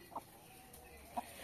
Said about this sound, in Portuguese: Aí as galinhas estão por aqui já.